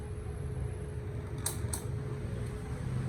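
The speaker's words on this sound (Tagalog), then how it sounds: "maximum ng electric fan, ayan" An electric fan runs on its maximum setting, number 3, powered from a portable EcoFlow River 3 Max Plus power station. It makes a steady, low, even whir with a couple of faint clicks in the middle.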